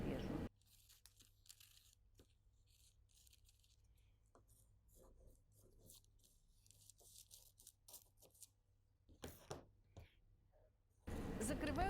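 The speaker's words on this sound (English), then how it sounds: "Next, I need to cut the dart." Scissors snip through a paper dress pattern to cut out a dart, a run of soft, irregular crinkly cuts and rustles, close and quiet, with a louder burst of paper handling near the end.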